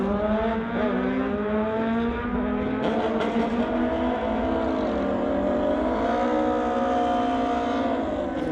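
Street-legal Harley-Davidson drag racing motorcycles at a drag strip, their engines revving high and rising in pitch through the gears for several seconds, loud and unbroken.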